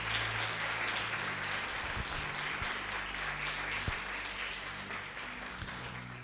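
A church congregation at a cell-group worship service applauds, producing dense, continuous clapping that holds steady and then slowly fades, heard from within the room at moderate loudness.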